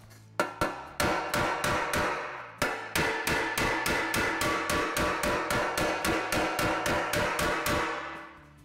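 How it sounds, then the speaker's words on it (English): A hammer strikes a car body panel along a line during panel beating: sharp metallic blows land close and loud, a few spaced hits first, then a fast steady run of about twenty even strikes with no talking. "So I'll get my muffs on and pick up the hammer."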